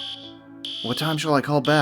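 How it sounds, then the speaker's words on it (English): A fire alarm sounding in a story reading, a steady shrill electronic tone that continues loudly while someone talks over it. "I said that's the fire alarm."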